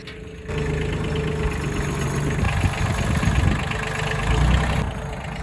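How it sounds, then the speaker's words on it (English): A tractor's diesel engine idles steadily with a low, knocking chug, close and continuous, its level rising slightly partway through. "My dad let me drive the tractor back to the other tree"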